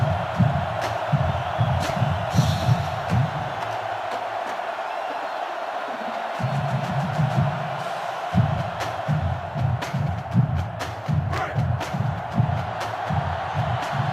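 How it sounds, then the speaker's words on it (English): Stadium crowd noise from the NCAA Football 2005 video game during a Penn State versus Texas matchup, a steady loud roar with rhythmic low chanting or stomping swells that drop out briefly midway. "the defense urging the crowd to get to their feet"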